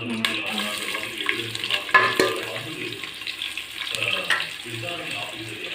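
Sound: onions added and frying in ghee in a pan

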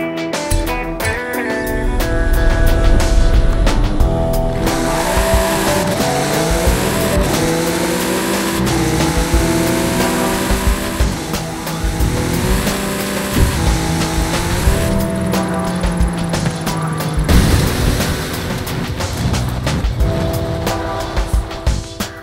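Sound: Infinity car driving to a danger sign in the video game Forza Horizon 5

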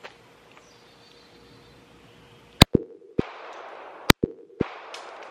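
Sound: gunshots from a SCCY CPX-3 .380 pistol at the range

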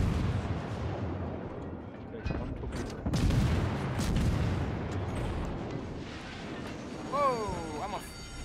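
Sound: destroyer guns firing in the World of Warships video game

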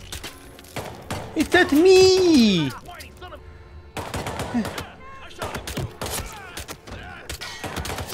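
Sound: gunfire from the video game Hitman 3 VR

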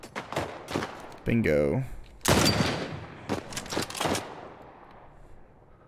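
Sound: sniper rifle shots in video game The Last of Us

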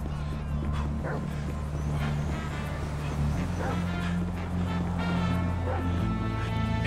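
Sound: dog barking in the video game GTA V

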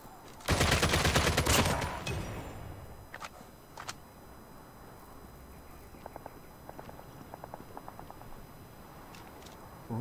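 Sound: gunfire in the video game PUBG Mobile

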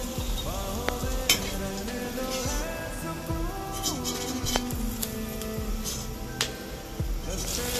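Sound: frying okra chips in oil

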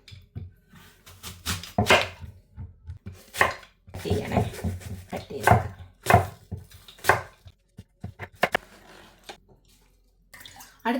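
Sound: cutting an apple with a knife

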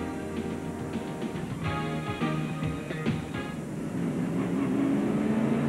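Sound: stock race cars driving on track under caution

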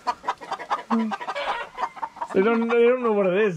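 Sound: guinea fowl and chickens clucking in a coop

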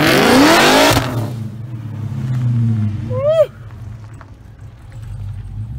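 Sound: LSA-swapped Chevy revving, spinning its tires

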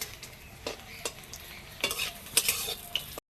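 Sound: papad frying in oil

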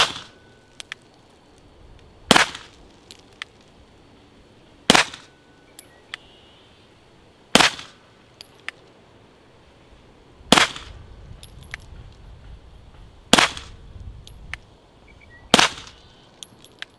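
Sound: suppressed CZ P-09 pistol shots, GEMTECH GM-45 suppressor

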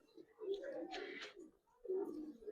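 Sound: Giribaz pigeons cooing

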